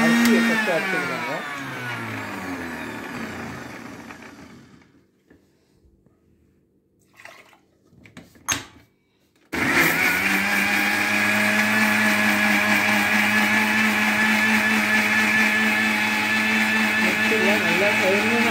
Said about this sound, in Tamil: கவுமெல்லாம் அரைச்சிக்கணும் மிக்சியில் அந்த அரிசியை